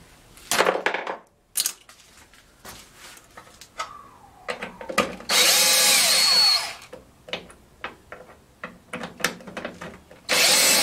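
Power tool bursts remove screws from an electric stove heater, model EST-534T-10, in loud stop-start runs with metallic clatter and short pauses between screws.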